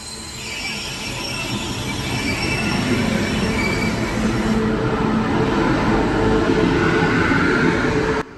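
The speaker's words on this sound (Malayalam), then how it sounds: "നമ്മുടെ ട്രെയിൻ ഇപ്പം ജോളാർപേട്ടൈ റെയിൽവേ സ്റ്റേഷനിലോട്ട് ഇത് എത്തിയിരിക്കുന്നത്" A passenger train arriving at Jolarpettai railway station rumbles close by with steady wheel noise and faint squealing, the roar building slightly before cutting off at the end.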